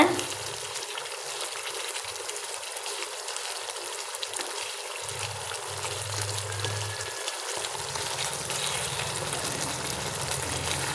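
Chicken sizzling in ghee in a pan as the pieces are turned, a continuous crackling fry with soft scraping and stirring bursts, close and moderately loud, no speech.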